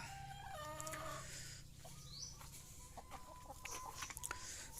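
Laying hens cluck and chatter close by, several birds calling over a low background hum, with a brief higher squawk in the middle.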